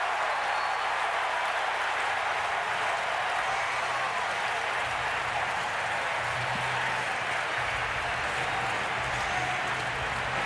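Loud, steady roar of a stadium crowd at a 2003 Raiders at Titans NFL football game, a dense wash of cheering and noise sustained throughout without pause.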